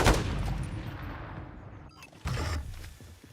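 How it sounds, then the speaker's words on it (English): Mortar strike explosions in a video game land as loud rumbling blasts in a dense burst at the start that tails off, then a second heavy impact about halfway through, with no talking. "Hostile mortar strike incoming."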